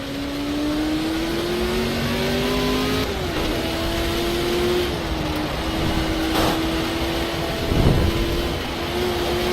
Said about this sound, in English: Car was built originally in the 60s to be the Ferrari Le Mans beater